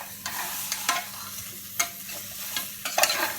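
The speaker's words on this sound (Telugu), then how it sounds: "కుక్కర్లో వేసేసుకుని ఒకసారి కలిపేయండి." Chopped onions being stirred in a pressure cooker, with a handful of distinct scraping and clattering strokes over a soft sizzle close by.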